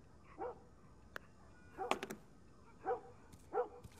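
A dog barks at night in The Last of Us, four or five short, faint, distant yelps spaced irregularly over quiet background.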